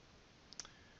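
Typing on a computer keyboard: a few soft, quick clicks close together in the middle of an otherwise near-silent moment.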